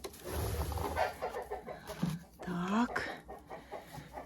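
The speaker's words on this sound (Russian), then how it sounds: "А вот это несет квочка. Квочка, которая высидела цыплят." A broody hen that has hatched chicks clucks and makes low calls close by as it carries toward the nest, with a person speaking briefly over it.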